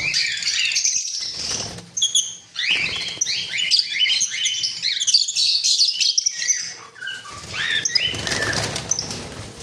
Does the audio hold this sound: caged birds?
yes